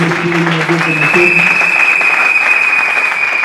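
A congregation claps steadily at a church wedding service, a dense, close burst of applause with a voice speaking over it.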